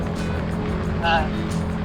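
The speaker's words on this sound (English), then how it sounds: "the wind noise, the bike noise here at highway speeds" Steady roar of wind buffeting and motorcycle engine drone at highway speed, heard from inside a Ruroc Atlas 3.0 helmet, continuous and fairly loud throughout the short stretch.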